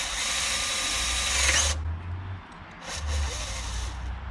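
Power drill boring into wood during a camper van build, a loud close whirring run that stops abruptly, followed by a short pause and then a second burst of drilling.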